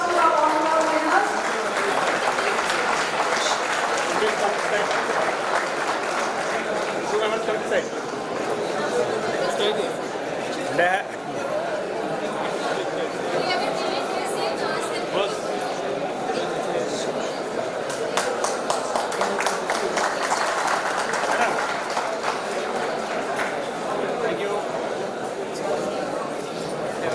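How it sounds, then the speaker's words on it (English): An Independence Day celebration crowd claps for honoured winners, a long, steady stretch of mid-level applause mixed with chatter and occasional voices, with no sharp breaks. "Please give a round of applause to our honorable winners"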